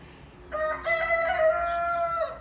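A rooster crows one long, loud cock-a-doodle-doo nearby, its harmonic call rising after a quiet start and holding steady to the end.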